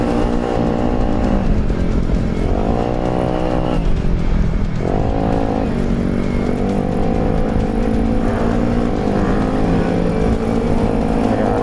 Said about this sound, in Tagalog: Para napapainit natin yung motor natin.